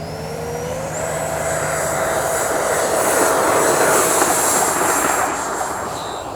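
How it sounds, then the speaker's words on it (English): An FMS 64mm F-16 Fighting Falcon EDF model jet spools up and takes off from grass, its ducted fan whine rising in pitch, swelling louder, then fading slightly as it climbs away. "This is an attempt at a grass landing. Did not work out too well on our grass. And a takeoff."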